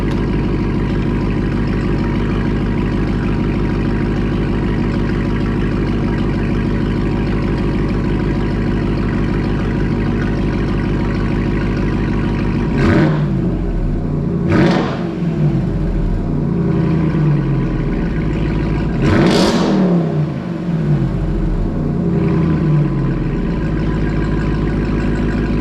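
A Ram TRX with a new Corsa exhaust rumbles at a deep, loud idle after a cold start, then blips sharply through three quick revs, each surging and dropping back to the throaty idle.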